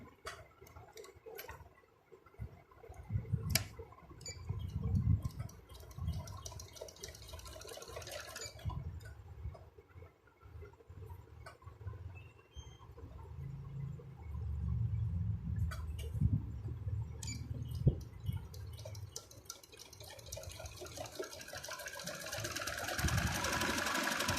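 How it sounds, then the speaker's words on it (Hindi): A Janome 8200 sewing machine runs in a quiet room while stitching a flap, its motor hum and rapid needle ticking rising and falling in uneven bursts with short pauses between runs. "फ्लैप को आपने इस तरह इसके ऊपर रखना है जी, और सिलाई लगा देनी है जी"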